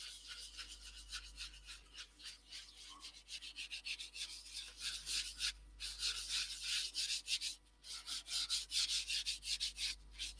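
Abrasive rubs against a yew natural edge piece that has been coated with cellulose sanding sealer, a close, rhythmic back-and-forth scratching that grows denser and louder with short pauses between strokes.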